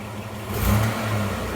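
A Mitsubishi NL Pajero engine running in drive while raised on a lift with its wheels spinning free, a steady mid-low engine hum that swells briefly partway through, close and fairly loud, with no talk.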